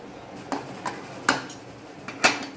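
A spoon stirring mushrooms and soya chunks in a cooking pot for a vegetarian biryani, heard as a few sparse clinks and scrapes against the pot, moderately close, with no talking.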